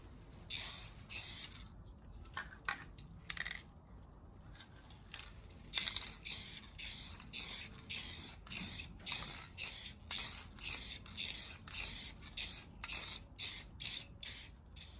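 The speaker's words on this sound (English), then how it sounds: "that's a one coat clear coat" A spray gun lays clear coat onto a 3rd-gen Toyota 4Runner bumper in a garage. Rhythmic, close hissing bursts repeat steadily, each pass separated by a brief pause.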